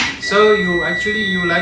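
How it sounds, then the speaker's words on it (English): An ultrasonic obstacle sensor alarm on a vehicle test bed beeps as a steady, loud, continuous electronic tone with harmonic overtones, while a voice speaks briefly at the start. "And then ultrasonic sensors have alarms"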